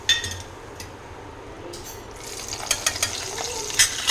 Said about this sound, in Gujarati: આવી રીતે તેલમાં લીમડાના પાન અને મરચાં એડ કરી દઈશું